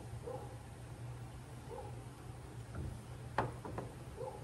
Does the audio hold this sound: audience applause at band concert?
no